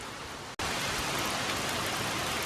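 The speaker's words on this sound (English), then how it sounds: "it's been raining a little bit all morning, but she's finally got here and it's really coming down now" Heavy rain pours down at a farm cow barn: a steady, loud, dense hiss that cuts out for an instant near the start, then continues unbroken.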